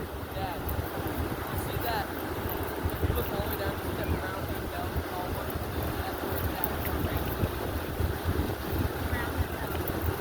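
Steady wind gusting across an ocean beach, buffeting the microphone with a constant low rumble and hiss, with surf sounds mixed in for the full length.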